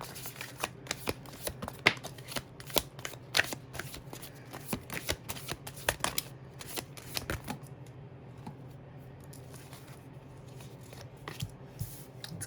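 Tarot cards being shuffled and handled for a reading, with repeated crisp riffling bursts and soft slaps at an uneven rhythm, close and fairly quiet, easing off toward the end.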